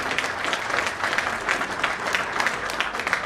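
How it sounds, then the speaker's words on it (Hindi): A crowd at a community rally applauds loudly and steadily, with dense, continuous clapping from many hands close by for a few seconds. "जोरदार तालियां।"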